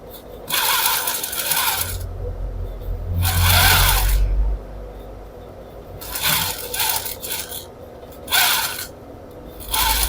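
An electric sewing machine stitches along the top of a trouser waistband that is being taken in. It runs in several separate bursts of whirring stitches, each a second or two long, with short pauses between them.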